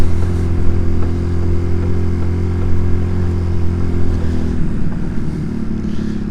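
A Honda CD200 motorcycle engine running rough at steady idle nearby, a loud continuous low thrum with uneven popping and clatter through it.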